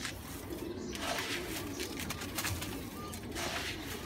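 Pigeons coo and call steadily at a household coop after rain, a continuous soft bird murmur across the whole stretch with no voices.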